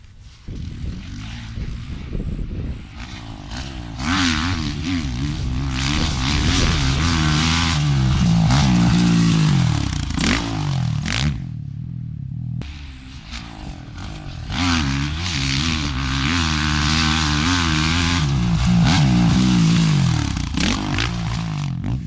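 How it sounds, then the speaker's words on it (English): Motocross bike engine on a wild private practice track, revving hard on throttle through jump landings, loud and continuous with rising and falling pitch sweeps and a brief cut near the middle before winding up again. "Here you can see that I'm landing this jump hard on the throttle to keep the bike straight."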